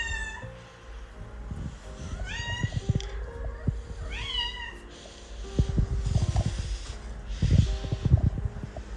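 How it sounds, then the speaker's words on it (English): A cat meows over and over for food, its rising calls close by, mixed with snorts, breathing and soft thumps in a quiet room. "never mind the background noise, just my cat wanting me to give her the good food even though it's not time for it"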